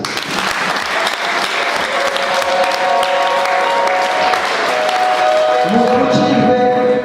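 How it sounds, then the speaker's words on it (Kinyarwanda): Sustained applause from a church congregation during a sermon, a dense, steady wash of many hands clapping together at close range, with voices faintly mixed in. "ngaho wikomera amashyi."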